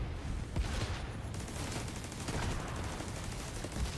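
Gunfire in The Division 2, including TAC 50 rifle shots, rings out as a dense, continuous barrage of overlapping bursts and cracks, loud and close throughout with no talk.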